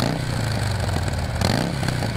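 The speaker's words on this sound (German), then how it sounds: "jetzt gibt es einen ganz entspannten Soundcheck mit diesem wunderschönen Motorrad." A Harley-Davidson chopper motorcycle engine runs with a steady, loud, throbbing rumble that holds throughout, then swells briefly partway through.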